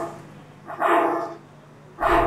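A dog gives a couple of sharp barks, close and loud, separated by a brief pause against a quiet outdoor background, with no talking.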